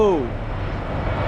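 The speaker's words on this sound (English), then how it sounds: "big ass airplane" Large airplane passing overhead, a steady low engine roar with broadband rumble that holds at moderate loudness throughout; a voice exclaims briefly at the start.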